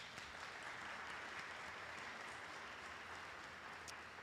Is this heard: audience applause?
yes